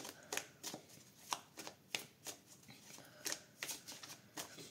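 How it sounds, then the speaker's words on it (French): Tarot cards shuffled and dealt out for a weekend reading, a run of quick papery riffles and slaps at close range, steady and alone without talk. "on va poser les cartes"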